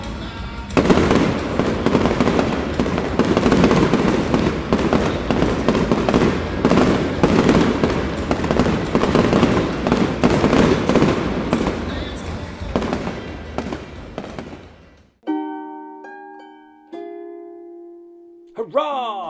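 Fireworks explode in a dense, continuous barrage of crackling bursts and booms, loud and close, before the noise cuts off and faint music remains.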